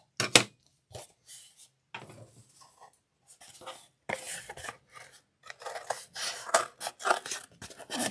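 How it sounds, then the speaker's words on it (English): Scissors cutting around a paper shape: a series of short snips and rustling paper scrapes in irregular bursts, close up, with brief pauses between cuts. "now we're going to cut round this."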